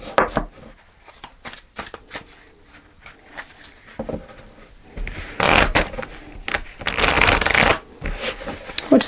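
Tarot cards being shuffled close up, with repeated riffling and bridging bursts that grow louder and denser toward the end, broken by brief pauses; no talking.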